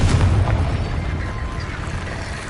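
A single deep, booming blast from the Confringo explosion spell in Hogwarts Legacy, loud and close, its low rumble fading away over a couple of seconds.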